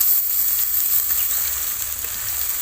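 Onion, ginger and garlic paste frying in oil, a loud, dense, continuous sizzle close by with no pauses or talk.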